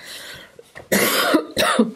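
A few harsh coughs close up, a short throaty lead-in followed by two strong, raspy bursts.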